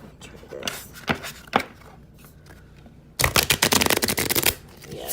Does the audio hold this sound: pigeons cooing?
no